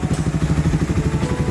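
Modified Raider 167cc motorcycle engine with a 66mm bore and 28mm Keihin carburettor runs close by, a steady throbbing idle with rhythmic pulsing exhaust beats and mechanical clatter.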